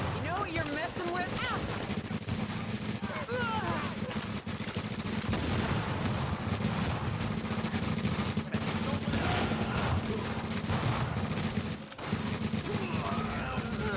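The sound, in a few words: gunfire, shooting from cover in the video game The Division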